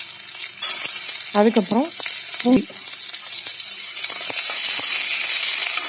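Chopped onions hitting hot oil in a pan give a loud, continuous sizzle that builds and holds to the end, with a few spoken words early on.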